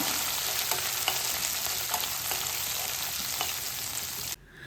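Chopped onion sizzles steadily in a pan with hot oil and mustard seeds for a curry, crackling and spitting close by with a few louder pops from stirring, then cutting off abruptly near the end.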